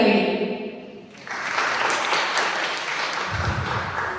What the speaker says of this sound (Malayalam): കൊടുക്കാം അവർക്ക് നല്ലൊരു കൈയടി.